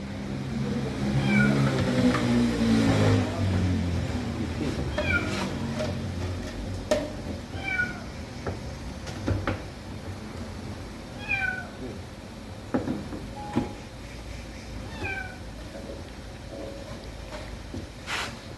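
A kitten trapped in a car engine bay mews repeatedly in short, high, thin cries, scattered over ongoing background rumble and occasional clicks, with no clear talking.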